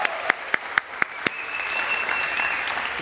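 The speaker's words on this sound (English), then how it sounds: "Oh, come on, we're done clapping now?" An audience at Google I/O 2016 claps with a few sharp distinct hand claps first, then swells into steadier, broad applause that continues to the end.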